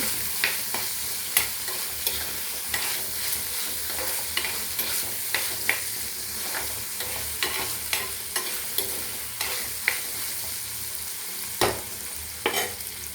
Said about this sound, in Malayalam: ഇതൊന്ന് വഴന്ന് വരണം വഴന്നിട്ട് വേണം ബാക്കിയൊക്കെ ഇടാം